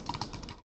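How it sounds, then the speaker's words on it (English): Quick burst of typing on a computer keyboard, several crisp key clicks in uneven rhythm, close and clear, ending abruptly. "I'm typing all these out"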